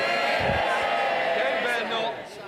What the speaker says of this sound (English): they're cheering so loudly